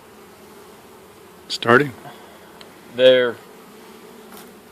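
A growing honeybee colony hums in a low, steady drone throughout a springtime hive inspection, with a person speaking briefly over the buzzing.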